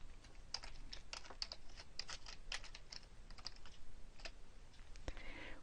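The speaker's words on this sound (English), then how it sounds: "Click in the box inside and type the text that you want to put in." Fingers tap steadily on a computer keyboard, a fast run of close, light clicks with no talk, set against a faint background hiss.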